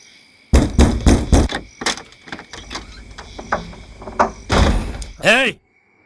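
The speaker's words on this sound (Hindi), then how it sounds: "दरवाजा खोलने में इतनी देर क्यों?" A door is opened in a Hindi-dubbed horror film scene. Loud knocks, thumps and a slam-like clatter come close by in uneven bursts, mixed with voices talking, before the sounds cut off into quiet.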